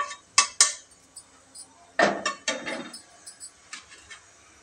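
Roasted whole spices for Kolhapuri misal being scooped out of a metal pan, giving close metallic clinks, knocks and scrapes in an irregular run of sharp hits followed by lighter taps, with no talking.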